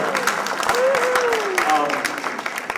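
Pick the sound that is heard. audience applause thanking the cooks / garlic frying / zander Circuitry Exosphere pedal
audience applause thanking the cooks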